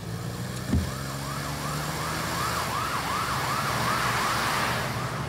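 Police car siren wailing in a steady repeating rise-and-fall pattern over traffic noise and engine hum, with a brief thump near the start.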